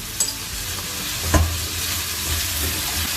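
Chopped celery sizzles in hot olive oil in a pan, a dense, steady, close frying hiss with a couple of faint knocks from stirring.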